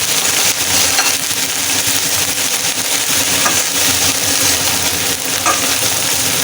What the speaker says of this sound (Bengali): জিরা বাটা দিয়ে মশলাটা ভালো করে কষিয়ে নিতে হবে